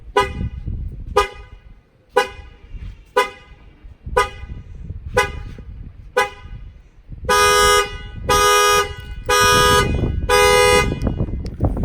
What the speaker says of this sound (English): the shock sensor add-on kit to the factory alarm system on this 2019 Suburban